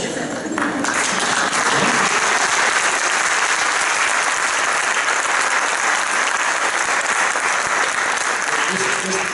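Sustained audience applause fills a hall at an education event in Mexico, a dense, steady wash of many hands clapping at full volume throughout, with some voices mixed in.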